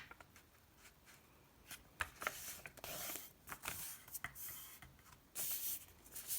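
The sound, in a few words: folding paper for a paper cube Christmas decoration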